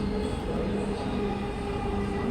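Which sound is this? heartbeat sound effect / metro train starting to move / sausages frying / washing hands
metro train starting to move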